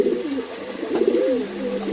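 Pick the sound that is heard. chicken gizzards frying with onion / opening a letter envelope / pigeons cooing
pigeons cooing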